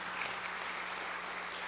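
Church congregation at a Korean worship service clapping in applause, a faint, even wash of many hands with a low hum beneath.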